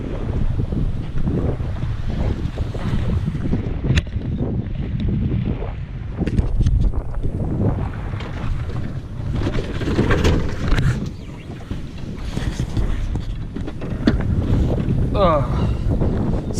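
Strong wind buffets the microphone out on the water during kayak fishing in Missouri, a rumbling, gusty roar with splashing, and someone speaks briefly over it.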